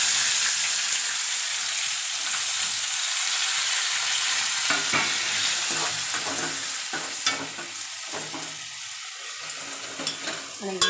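A tomato curry with turmeric cooks in a pan, sizzling and bubbling steadily, with a spoon stirring and scraping in irregular bursts up close, and no voices heard.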